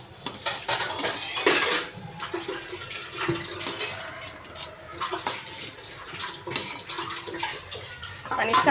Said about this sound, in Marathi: आता मी ह्याच्यामध्ये ह्या सर्व भाज्या मिक्स करून घेणार आहे।